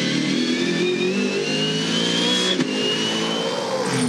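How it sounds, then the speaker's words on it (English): A V8 Supercar racing engine roars continuously at the 2015 Gold Coast 600, a loud, sustained high-revving drone as the car runs on track, with no talk. "You can hear the car there"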